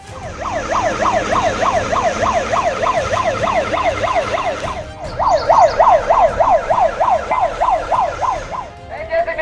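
An ambulance siren wails in rapid rising and falling cycles during a rescue mock drill in Telangana, loud and near, briefly breaking off midway before resuming amid street noise.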